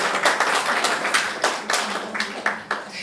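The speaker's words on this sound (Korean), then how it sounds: "우리 박수 한번 치겠습니다." Church congregation clapping together at a New Year's Eve worship service, with loud, fairly regular claps at close range that taper slightly toward the end.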